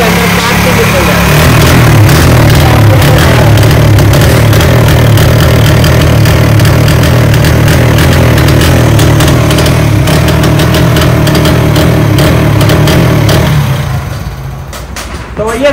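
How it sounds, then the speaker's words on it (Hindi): A 2024 model motorcycle with a misfiring problem runs loud and close, its engine held at a steady, raised throttle before dropping away near the end, with a voice talking over it. "हम बाइक को रेस देते हैं, आपको चेक कराते हैं बाइक के अंदर क्या मिसिंग है।"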